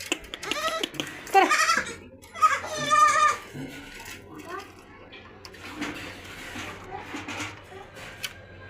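Sheep bleat on a farm, with several loud, wavering calls close by in the first few seconds, then quieter bleats and farmyard noise while people talk nearby.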